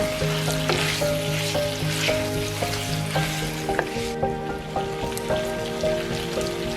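Braised pork ribs with tofu get stirred in a pan, a steady bubbling sizzle under soft scraping and clinks, continuous and close, with no voices.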